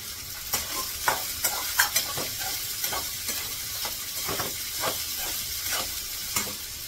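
Sautéing in a pan with salt: a continuous hot sizzle with rhythmic scraping strokes of a spoon recurring about twice a second, close and fairly loud.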